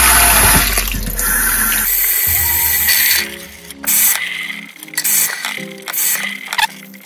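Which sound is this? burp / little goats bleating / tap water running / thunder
tap water running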